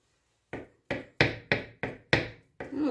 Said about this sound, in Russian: Нарезаем 2 вареных яйца.